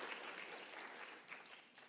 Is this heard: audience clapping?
yes